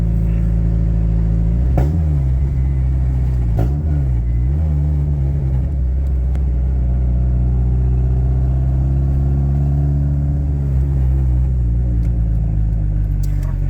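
A turbocharged K24 engine in an all-wheel-drive budget build idles close by with a steady, deep rumble, holding a constant drone with a couple of brief clicks but no talking.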